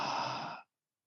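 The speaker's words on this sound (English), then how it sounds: "Take an intentional inhale through your nose and then exhale through your mouth." A deliberate breath out through the mouth during a guided meditation, one soft, steady breathy exhale lasting about half a second, close and clear, then silence.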